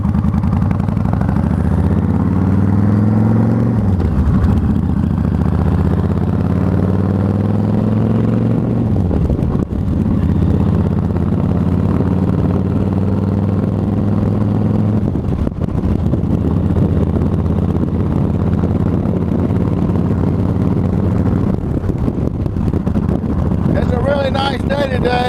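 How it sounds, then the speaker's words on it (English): Kawasaki Vulcan 1500 cruiser motorcycle rolling along a road, a steady loud engine drone with shifting pitch as it accelerates, heavy wind buffeting the microphone throughout. "we're fixing to take a ride here on the beast, the Vulcan"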